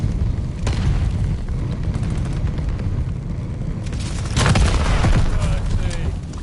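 A grenade explodes in a first-person shooter game, with a loud boom landing around the middle and rumbling debris and gunfire-like noise surrounding it over steady game background.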